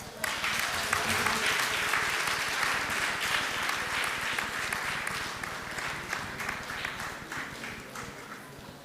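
Audience applause at a research conference award ceremony, a dense, steady round of clapping from a large crowd that holds throughout and tapers slightly toward the end.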